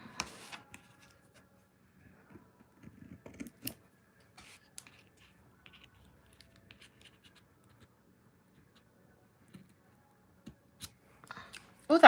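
Quiet snipping and scratchy clicks of scissors cutting through ribbon, scattered irregularly with pauses between cuts.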